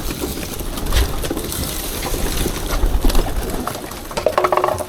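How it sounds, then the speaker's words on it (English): Racing pigeons coo steadily in a loft as they feed, with the cocks hungrier than the hens, a dense near chorus of soft throaty calls over low rustling and fluttering, no talk. "a lot of the pigeons are giving away the eating"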